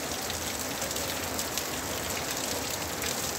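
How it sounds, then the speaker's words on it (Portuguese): Heavy rain falls in the city of Varginha, Minas Gerais, a loud, close and unbroken hiss of drops striking surfaces, constant in level from start to end with no voices. "Chuvinha caindo."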